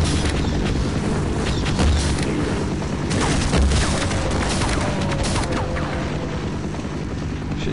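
Dense game combat in Half-Life: continuous booming gunfire and blasts fill the whole stretch, loud and close, with volleys layered over a rumbling low end and no talk.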